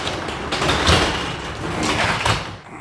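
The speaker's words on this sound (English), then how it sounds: "That door hasn't been open in a long time." A long-unopened shop door, probably a roll-up garage door, rumbles and scrapes open for nearly three seconds in a workshop, loud and close, with a few sharp rattling bursts along the way before it stops.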